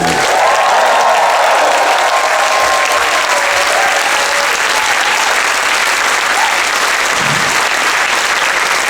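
A concert audience on a cruise ship applauds and cheers for the performers, with loud continuous clapping and whoops filling the room for the whole stretch.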